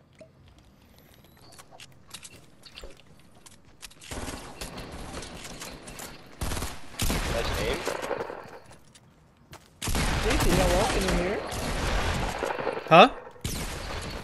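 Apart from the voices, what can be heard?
gunfire in a video game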